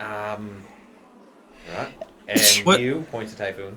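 A person sneezes once briefly amid a group's lively conversation, the sneeze buried among several voices talking over one another.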